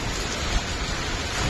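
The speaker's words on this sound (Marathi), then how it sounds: "एवढा पाऊस आहे" Heavy rain pours steadily in a brief, dense hiss of drops beating down around a loaded vehicle packed with household goods and a ladder, with no voices.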